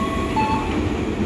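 A KRL Commuter Line train rolls into Bogor station with a loud, steady rumble and a faint high squeal, close by and without talk.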